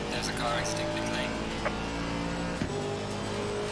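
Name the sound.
race car exiting pit lane in Assetto Corsa Competizione video game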